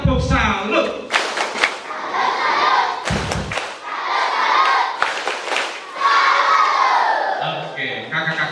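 Children at a scout jamboree clap out a rhythmic tepuk salut cheer in loud bursts, mixed with shouting and crowd noise, with brief pauses between rounds.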